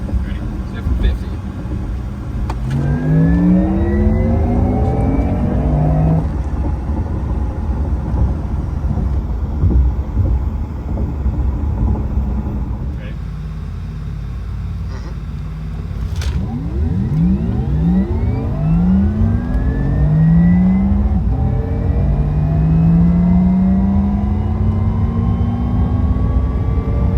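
A Porsche Taycan electric car accelerates hard from 50 mph, its motor whine climbing in pitch in several long rising sweeps over a constant rush of road and wind noise, heard from inside the cabin.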